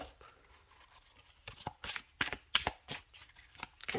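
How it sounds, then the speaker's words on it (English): A tarot card deck is shuffled by hand, with a quiet start and then a run of crisp, close riffling bursts in a quick, uneven rhythm, no talk over them. "We're going to take a look at how it shuffles quite well"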